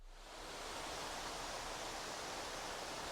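Jigger Creek Falls in Georgia pours in a steady, full roar of rushing water, heard close and alone with no voices.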